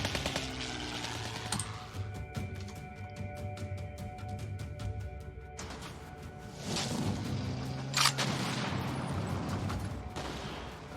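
Gunfire in the KARDS card game: dense rapid bursts of shots and impacts crackle over a layered game soundtrack, with a louder burst near the end.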